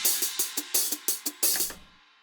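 Drum and bass hi-hats made in Reason 10 with a reverb send for space: a run of bright, crisp ticks in a quick uneven rhythm, each trailing a short airy tail, ending in a fading wash; no talk.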